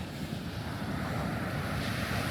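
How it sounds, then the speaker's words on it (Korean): Ocean waves and surf breaking on a beach, a steady broad wash of water with wind rumbling across the microphone, continuous and fairly loud with no voices. "다현이하고 동생하고 다 파도에 바다에 들어간대요"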